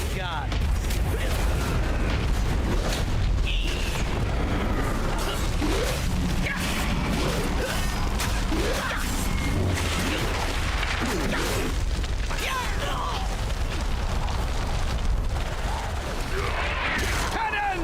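Pirate cannons fire in World of Warcraft in a dense, continuous barrage of booms, blasts and crashes, loud throughout, with voiced game dialogue mixed in.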